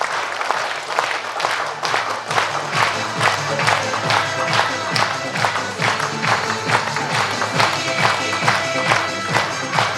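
Loud, sustained applause from a large audience at a live programme in Varanasi, dense continuous clapping filling the whole stretch with crowd noise and occasional cheering underneath.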